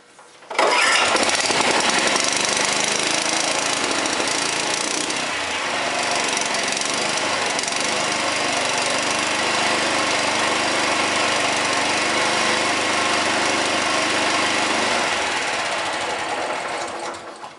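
A small lawn mower engine kicks on after a brief pull and then runs at a steady, loud, buzzing drone for about sixteen seconds before fading slightly at the end, with no talking.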